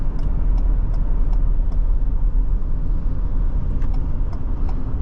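A Ford Police Interceptor Utility SUV with a 400 hp EcoBoost engine under hard acceleration on a timed run, a loud steady engine drone and road rumble heard from inside the cabin, continuous with no talk.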